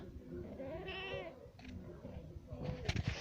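A cat in heat gives drawn-out, wavering meows up close, with a person talking nearby and some rustling at the end.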